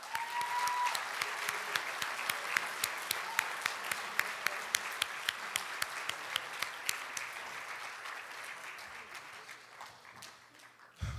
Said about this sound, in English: can we have another round of applause for this group?